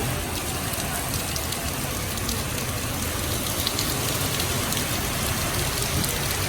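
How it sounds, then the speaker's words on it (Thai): Steady heavy storm rain pours down at a street food stall, a dense continuous hiss of drops on surfaces with no pauses, fairly loud and close. "เพราะว่าฝนตกหนักมาก"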